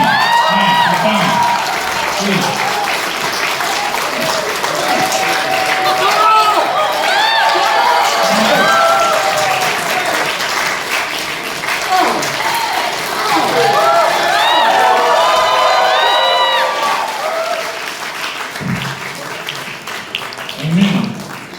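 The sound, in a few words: audience applause and cheering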